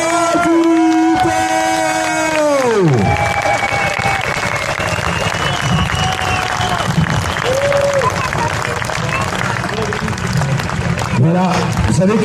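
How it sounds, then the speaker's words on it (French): A crowd at a motorcycle stunt show claps steadily and continuously, a dense wash of applause with a few voices and musical tones over it near the start. "Allez, on l'applaudit, on l'applaudit"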